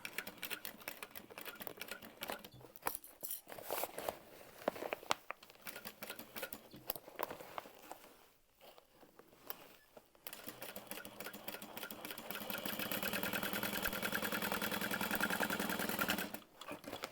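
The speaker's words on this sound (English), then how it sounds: "we're getting to that center line, kind of back stitching, going over it, changing the direction of that seam, and then carrying on." A sewing machine back stitches a seam on a small handbag, reversing direction at the center line; the motor whirs in uneven bursts with a short pause, then a longer steady run, close and quiet.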